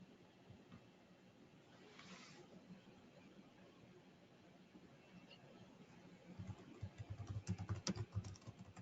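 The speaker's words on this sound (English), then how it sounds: "I hear some typing." Soft keyboard typing clicks run quietly through the background, growing into a denser, louder burst of keystrokes near the end.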